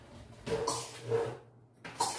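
A child coughs three times, quiet and fairly close, with short pauses between the raspy bursts.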